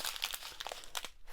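Scissors cutting open small plastic bags of diamond painting drills, a quick run of crinkly snips and rustles close by, with no talking.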